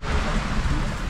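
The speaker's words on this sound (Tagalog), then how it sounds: "kahit ano, malakas ang ulan" Heavy rain pours steadily on a hut under construction, a dense continuous hiss with low rumbling beneath, loud and close throughout with no break.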